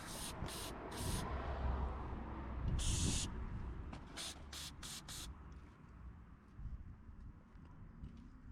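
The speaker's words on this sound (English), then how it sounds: "Liberal amount of carburetor cleaner to clean all the grease out." Carburetor cleaner sprayed on greasy Royal Enfield 650 Interceptor motorcycle parts in a series of short hissing bursts, one longer spray among them, fairly faint over a low background rumble.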